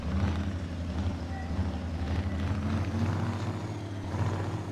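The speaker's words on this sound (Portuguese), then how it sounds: "O som desse caminhão tá foda." A Ford F600 truck engine in Euro Truck Simulator 2 hums at a steady low idle, a continuous deep rumble with a droning tone and no breaks.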